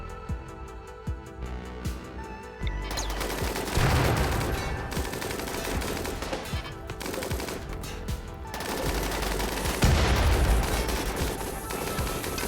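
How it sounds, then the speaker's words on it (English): Automated turrets in RimWorld trade sustained rapid gunfire, dense bursts of shots rattling on continuously with heavier booms mixed in, loud and close. "I'll let this smoke clear and just, like, pit the turrets against one another."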